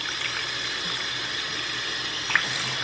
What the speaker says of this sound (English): I'm just rinsing this out gently, starting from the top and working my way down